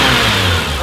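A BMW E34 M5 engine runs steadily up close just after a transmission and exhaust replacement, a continuous mid-pitched rumble with slight revving and no talk.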